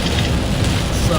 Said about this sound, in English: just so much rain